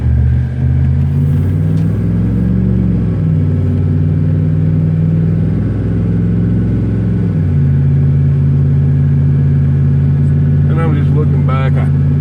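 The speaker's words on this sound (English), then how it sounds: "I think both these vehicles are turning." Cars driving around a lake, heard from inside a moving vehicle: a loud, steady engine drone with shifting pitch as it changes speed, and someone talking over the rumble.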